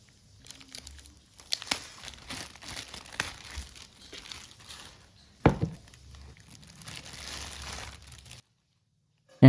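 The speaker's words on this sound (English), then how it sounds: "Let's keep that aside and unwrap the speakers." Plastic wrapping crinkles and rustles in close, irregular bursts as packaged FRONTECH 2.0 USB-powered multimedia PC speakers are unwrapped, broken by a short pause and a sharp rustle, ending in near silence.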